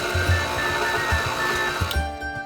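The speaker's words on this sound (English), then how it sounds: "Add the raisins to your mixer and on low speed," A stand mixer turns on low speed as raisins are folded into soda bread dough, giving a steady close motor hum with a soft repeating low thump as the dough turns, then quieting near the end.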